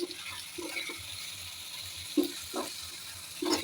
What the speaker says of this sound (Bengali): এখন আমি ডিমগুলো ছেড়ে দেবো মশলার মধ্যে, ভাজা ডিমগুলো।